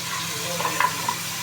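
Chopped garlic and vegetables frying in a pan for pasta, with a steady soft sizzle and a few light stirring scrapes, close and alone.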